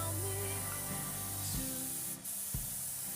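Tamiya X18 semi-gloss black sprayed onto a plastic scale model helicopter kit, a steady close hiss running through the whole stretch with a low hum beneath and a brief dip near the end.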